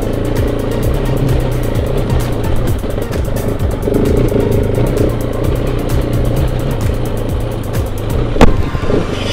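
A motorcycle engine drones steadily and loudly while riding, rolling on the throttle in second gear with a continuous growl, wind rush and a faint rhythmic ticking, a brief sharp knock near the end.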